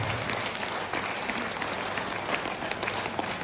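Audience applause at a teachers' and students' gathering in an Indian hall, a dense steady wash of clapping from many hands, fairly even throughout with no clear speech.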